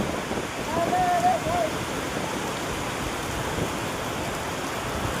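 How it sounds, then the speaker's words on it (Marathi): Heavy rain pouring during a windy storm, a dense, steady hiss of downpour with a brief tonal sound early on. "एवढा जोरात पाऊस सुरू आहे."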